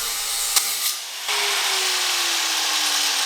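A cut-off wheel grinds into metal with a loud, bright, hissing screech. A brief tick and a short lull come before a steady, sustained cut whose tone slides slowly downward.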